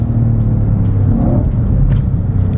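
A 2020 Ford Mustang Shelby GT500 with 760 horsepower roars at full throttle accelerating out of a track corner, a loud, steady, close engine rumble with a deep droning tone.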